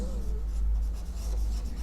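Chalk or marker writing on a board during a chemistry lesson on balancing redox reactions, a steady soft scratching and rubbing that continues for under two seconds over a low background hum, with no voice.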